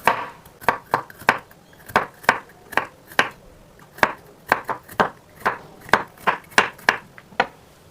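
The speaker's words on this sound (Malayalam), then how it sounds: "ഇനി നമുക്കത് ചെറിയ പീസായിട്ട് കട്ട് ചെയ്തെടുക്കാം." A knife chops de-seeded bitter gourd into small, thin pieces on a board, giving about twenty crisp, evenly spaced strikes, close and loud. No talking is heard.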